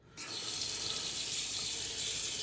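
A bathroom tap turned on to re-wet the face during a wet shave, with water gushing steadily into a sink, close and continuous after a brief quiet start.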